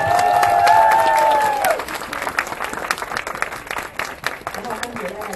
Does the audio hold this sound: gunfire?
no